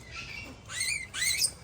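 High-pitched squeaks like newborn rats come in two short bursts, fairly close and moderately loud over a low background hum, heard at a zoo birthday outing.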